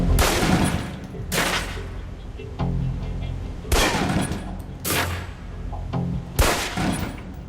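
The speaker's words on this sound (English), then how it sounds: "Equip the pistol, then aim down range and take some shots at the target" Pistol shots at a target range in the video game Alpha Protocol: about five loud, sharp single reports spaced roughly a second apart, each with a short ringing tail, heard alone.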